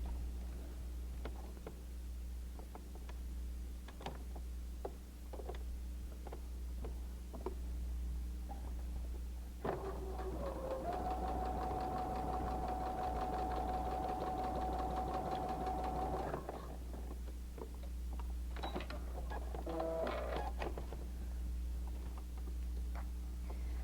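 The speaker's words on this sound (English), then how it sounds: "now we're going to sew on the line between number 2 and 3" A sewing machine stitches a paper-pieced Christmas elf mug rug, running steadily for about six seconds in the middle, with scattered small clicks and handling before and after over a constant low hum.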